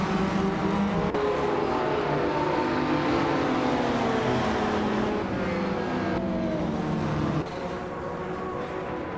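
Race cars roaring off the line at Sochi Autodrome, a classic 1987 Porsche 959 in the lead: a dense, loud wall of engine noise with overlapping revving tones sweeping upward, continuous throughout without talk.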